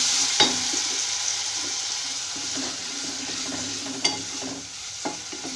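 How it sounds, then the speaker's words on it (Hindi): Tomatoes get mixed into onions frying for aloo methi bhujia, a steady close sizzle with a few distinct spoon scrapes and knocks against the pan spaced a second or more apart, no voices. "अब हम इसमें डाल देंगे टमाटर, थोड़ा सा इसको मिक्स कर लें।"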